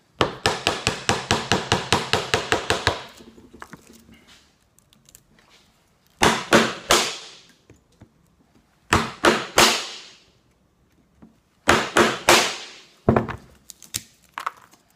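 A wooden mallet strikes a chisel chopping a trench in wood for a towel holder. It opens with a fast, close run of sharp knocks, then the knocks come in shorter bursts separated by quiet pauses.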